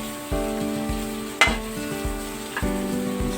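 Garlic sautéing in a pan as a home-cooked dinuguan of offal in coconut milk gets started, giving a steady close sizzle broken by several stirring scrapes and one sharp clatter midway.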